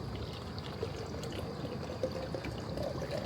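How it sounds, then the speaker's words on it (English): Stream and waterfall water gets poured into a Grail water filter on a hike to Kalalau Beach, a steady close splashing pour with no talk. "Pour the water in here."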